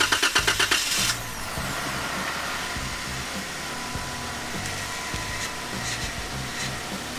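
A stock Jeep Wrangler Unlimited on 20-inch rims cranks with a quick rhythmic starter chatter for about a second, then fires and settles into a steady, close-up idle that hums on with no talking.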